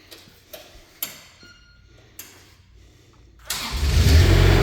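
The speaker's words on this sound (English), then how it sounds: "So here's your Kubota coming to life." A Kubota diesel engine on a Manitou TMM45 truck-mounted forklift starts: a few sharp ticks and clicks first, then the engine catches and settles into a loud, steady close-up idle rumble.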